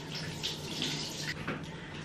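Tap water running steadily into a sink while a face is rinsed clean, a close, continuous splashing hiss with small surges as hands move through the stream.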